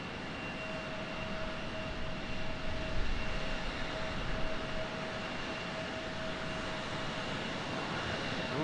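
A Breeze Airways airliner lands in stormy weather at Raleigh Durham airport, its engines a steady broad roar that swells slightly midway and stays continuous throughout, heard from a distance without talk.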